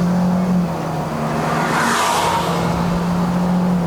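A 2023 Toyota Vios NGC102 with a CVT holds its engine at high revs while driving on a Malaysian mountain run up to Genting. It makes a steady, loud drone with road and wind noise around it, and no one talks.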